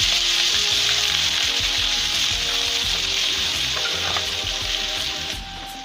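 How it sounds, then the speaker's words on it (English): Onion dropped into hot oil for a pepper sauce, frying with a loud, steady, close sizzle that holds evenly for several seconds before easing slightly at the end; no voices. "We add the onion."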